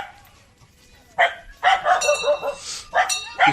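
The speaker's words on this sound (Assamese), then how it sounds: "পিছফালে কুকুৰে ভুকি আছে।" Dogs bark behind a walker along a green riverbank where people fish; several sharp, near barks and yips come in bursts after a quiet opening, with faint background noise.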